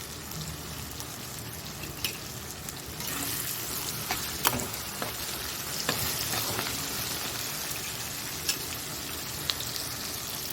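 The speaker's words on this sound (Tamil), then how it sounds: "இந்த பக்கம் வெங்காயம் நல்லா வதங்கி வரட்டும்." Small shallots sauté steadily in hot oil in a pan, a village-style base for spicy tamarind curry, giving a close, continuous frying crackle with a few sharp pops and stirring clicks throughout.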